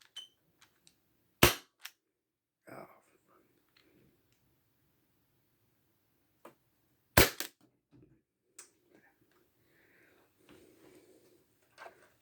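A Win Gun 731 airsoft revolver fires BBs, two sharp loud cracks several seconds apart, with quieter clicks and handling noises of cylinder and loading between them, close up.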